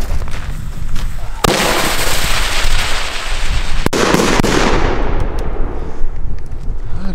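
Loud firework salutes from a Broekhoff Dragon Thunder 19-shot multi-salute battery bang in rapid succession, a dense volley of sharp explosions that tapers off into scattered pops and crackle.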